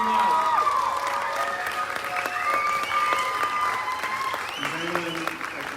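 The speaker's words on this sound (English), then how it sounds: "Give them one more round of applause." Audience applause for graduating high school band seniors at a summer concert, a dense, steady wash of clapping with some cheering, sustained throughout with brief voices mixed in.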